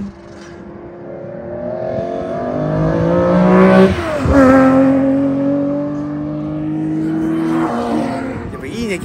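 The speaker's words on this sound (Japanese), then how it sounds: "やっぱいいねキャブ車ね。" A carbureted Nissan Laurel's engine revving hard on Honjo Circuit, loud and close, rising in pitch twice with a brief dip between as the driver heel-and-toes through the gears.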